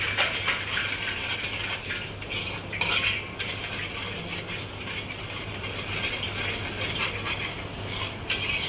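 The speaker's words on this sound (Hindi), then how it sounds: "देखिए मसाले भुन रहे हैं अच्छे से" Spices roasting in oil in a pan for paneer rogan josh, with a steady low sizzle and the repeated scrape and clink of a spoon stirring, close and continuous.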